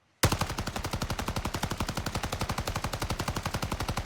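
Sustained fully automatic fire from a Volkssturmgewehr assault rifle in Call of Duty, a loud, rapid, even stream of shots starting abruptly from silence and running unbroken.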